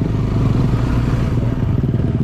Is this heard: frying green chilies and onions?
no